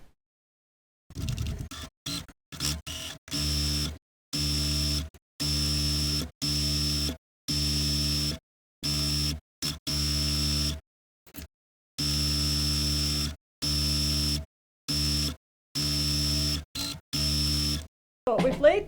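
A sewing machine top stitches a seam on a vintage-style handmade girls' Easter dress, its motor whirring in steady stop-start bursts of one to two seconds, close and fairly loud, with short pauses between runs.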